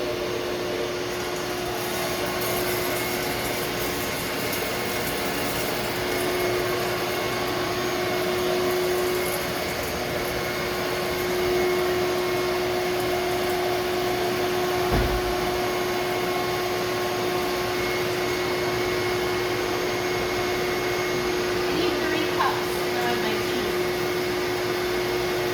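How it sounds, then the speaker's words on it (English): A vacuum runs inside a winnower, sucking air with a steady, close, droning whine that holds constant throughout, with a brief thump partway through. "Is the vacuum sucking or blowing? Sucking. It is sucking."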